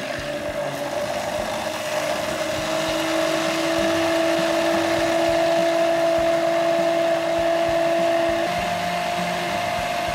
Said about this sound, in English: Mix with a hand blender until everything is liquefied.